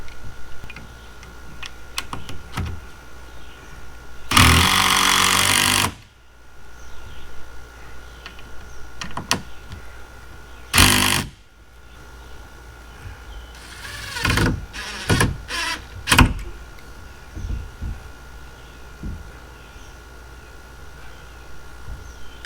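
A power drill drives decking screws into a shed rim joist, giving a few loud, brief whirring bursts separated by quieter gaps with light clicking handling noise, nearby and without speech.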